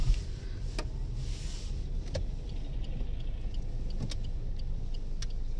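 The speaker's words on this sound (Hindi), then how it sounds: "सड़क के दोनों तरफ गाड़ियों की लंबी लाइनें लग चुकी हैं।" Steady road traffic in Ayodhya during a jam, with long lines of cars on both sides of the road; a continuous low engine rumble with occasional faint clicks and ticks, no speech.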